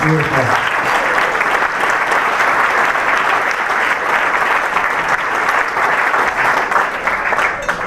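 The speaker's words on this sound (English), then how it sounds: "How about another real nice round of applause for Tiffany?" Applause for a performer at a pregnancy help center charity gala, a full, sustained ovation from a sizable crowd, loud and even throughout with no pauses, a brief low tone at the very start.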